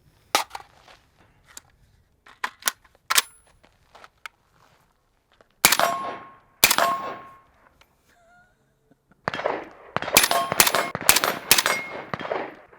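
A PTR 32 rifle with a 12.5-inch barrel fires at steel targets: sharp shots with ringing metallic pings, singly at first and then in quicker clusters, with quiet gaps between them.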